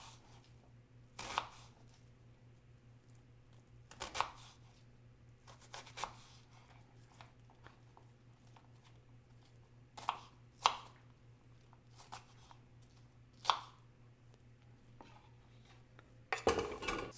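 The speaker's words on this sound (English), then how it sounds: "The only thing I have left to do is cut my onion." A knife chops an onion on a cutting board in a home kitchen, giving sparse, separate knocks a few seconds apart against a low steady background hum.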